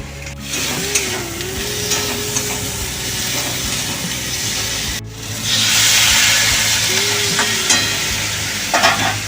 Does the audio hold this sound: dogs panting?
no